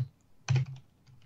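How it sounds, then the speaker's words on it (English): A few soft clicks of keys on a computer keyboard, one slightly louder cluster in the middle, faint and sparse over quiet room noise. "I can hear that keyboard of his."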